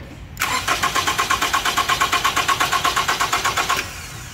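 A car engine cranks with a fast, steady chugging of the starter for about three seconds under test conditions for voltage drop at the starter, loud and close, then the cranking stops abruptly without a clear catch into idle.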